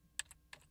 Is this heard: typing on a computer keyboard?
yes